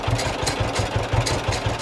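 A John Deere H tractor engine idles with a steady, rhythmic, low chugging pulse. It is close and continuous, with no talk.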